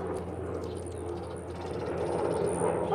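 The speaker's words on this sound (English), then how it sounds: "Military helicopter." A low, steady rotor drone from a large military helicopter flying overhead fills the air, loud and continuous, growing slightly stronger toward the end.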